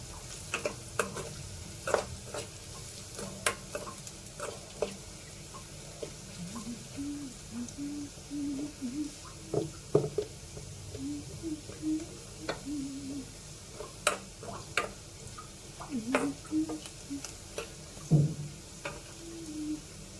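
Onions sautéing in a pan for curry, with a faint low sizzle under scattered clicks and scrapes of a spoon stirring at an irregular pace, quiet and fairly close.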